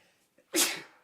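A single sharp sneeze bursts out close by after a quick intake of breath, loud at first and then trailing off.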